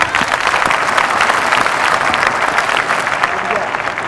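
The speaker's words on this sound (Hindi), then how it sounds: "तालियां" Audience at a hands-only CPR training event bursts into sustained, dense applause, many hands clapping together at close range, steady and loud throughout with no break.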